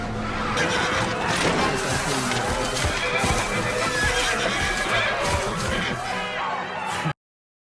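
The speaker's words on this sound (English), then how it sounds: "And a horse, by the way." A horse whinnies amid a loud, busy mix of hoofbeats, crashes and voices in the anime Mobile Suit Gundam: The Origin, continuing steadily before cutting off abruptly.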